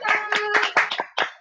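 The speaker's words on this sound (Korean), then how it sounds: "먼저 다 같이 한번 박수 한번 주시겠어요?" A small group claps hands during a prayer meeting, producing half a dozen short, uneven bursts of close claps separated by brief gaps.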